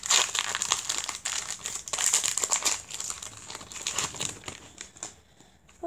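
Pokémon card booster pack wrapper torn and crinkled open, a close, continuous plastic crackling rustle with brief sharp bursts, fading near the end, no voices.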